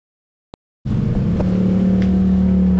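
After a short click, a motorcycle engine starts and settles into a loud, steady idle nearby, its low throbbing rumble continuing without any talk.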